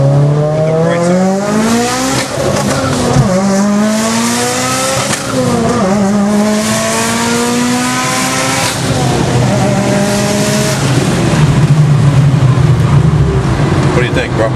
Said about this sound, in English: run through the gears to see how it's running with this GT35 with the brakes on.